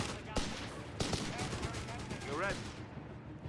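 Gunfire crackles through a World War II battle in Company of Heroes 3, with sharp shots at intervals over a dense roar of combat and a commentator talking over it.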